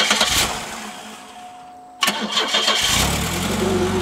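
A 1991 Pontiac Grand Am cranks and fires up, a loud burst of starter and ignition followed by the engine settling into a steady close idle after a brief quiet lull.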